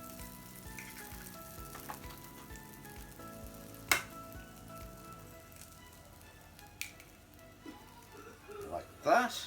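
Eggs are cracked one at a time straight into the bottom of a hot pan and fry with a soft, steady sizzle, with a few sharp clicks and taps of the pan and utensils near the end.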